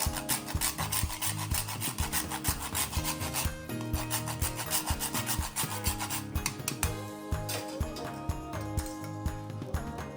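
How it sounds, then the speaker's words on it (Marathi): Nutmeg is rubbed across a small grater into puran filling for Vidarbha-style puran poli. Quick, even rasping strokes repeat steadily at close range, with a faint tonal hum underneath. "आता याच्यामध्ये आपण जायफळ किसून टाकायचं थोडं."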